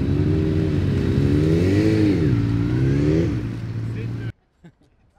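Race car engines rev loudly and up close at the start of a warm-up lap for a two-hour endurance race at Oschersleben, with the pitch rising and falling before the sound cuts off abruptly.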